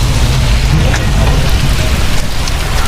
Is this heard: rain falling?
yes